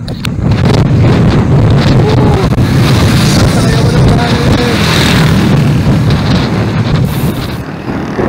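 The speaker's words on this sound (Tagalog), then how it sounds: "Lakas ng hangin dito." Strong wind roars and buffets the microphone continuously on a bridge during a bicycle ride, a loud, steady rush with gusty swells throughout.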